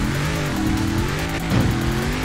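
A Mini's engine revs hard and loud in Forza Horizon 4, a close, throaty buzz with a brief surge of acceleration near the end.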